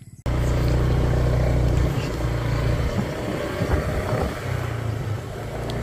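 A learner rides a motorcycle in a remote, wide-open area: a steady, loud engine drone close by that starts abruptly, holds, then eases slightly in pitch and level as the ride continues.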